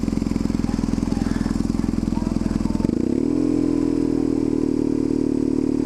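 A restored BMW R1150GS motorcycle idles close up with a fast, even pulsing throb, then shifts to a smoother, slightly different engine note partway through.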